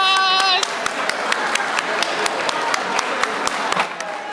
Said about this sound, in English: So we get a round of applause.